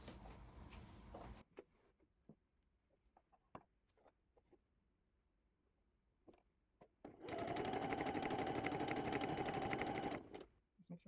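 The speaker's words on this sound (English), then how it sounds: "I'm going to take it to the machine and sew that straight down" A sewing machine stitches a seam straight down on a quilt-as-you-go Battenberg block, running in a loud, steady burst of several seconds after quieter handling taps and rustles, with chickens clucking faintly in the background.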